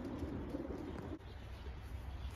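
Racing pigeons coo softly at close range, a low steady murmur of birds basketed before a semi-final race, with no talk over them.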